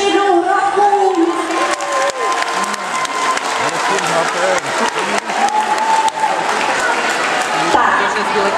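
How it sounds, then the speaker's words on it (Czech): A crowd at a dance group competition's awards announcement bursts into sustained applause mixed with cheers and whoops, a dense, loud wash that continues throughout. "Zatleskejte ještě jednou hrovkům."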